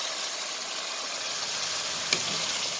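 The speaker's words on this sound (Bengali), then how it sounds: "দেখুন মাংসগুলো তেলের উপরে মশলার উপরে একটু কষানো হোক" Beef fries in oil with spices for a dry bhuna curry, a steady close sizzle and hiss with one brief knock partway through.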